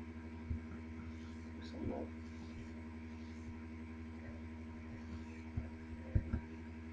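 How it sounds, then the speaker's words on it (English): Aircraft engine at full throttle in Flight Simulator X: a steady low drone holds throughout, with a few clicks and short bumps over it. "Let's do full throttle."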